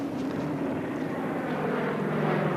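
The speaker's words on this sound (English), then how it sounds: "a Coast Guard plane from Juneau arrived, dropping supplies" A Coast Guard plane from Juneau drones steadily overhead, a continuous low engine hum with a faint propeller tone, holding at an even level throughout with no voices.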